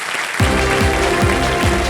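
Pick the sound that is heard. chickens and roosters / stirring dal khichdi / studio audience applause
studio audience applause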